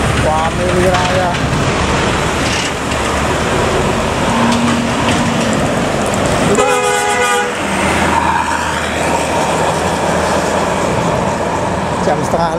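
A Family Raya bus bound for Solo passes through a busy highway rest area with a loud, continuous engine roar and a burst of rapid rhythmic horn toots midway, while other traffic hums and people talk.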